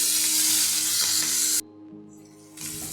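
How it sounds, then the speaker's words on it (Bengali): Onion with green chilli and salt softening in hot oil in a pan, giving a steady close sizzle for a moment before it suddenly drops away to near quiet and returns faintly. "পেঁয়াজটাকে আমি লাল করে ভাজলাম না, একটু নরম করে ভাজলাম"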